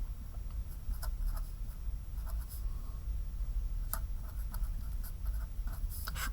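A pen scratches steadily as a dipole vector arrow is drawn, making soft, continuous strokes with small tapping accents and no voices.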